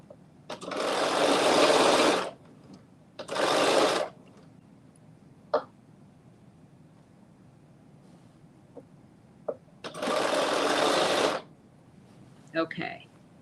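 Sewing machine stitching ruffle pants in three short, loud whirring bursts separated by quiet gaps, with small clicks and a brief vocal noise between runs.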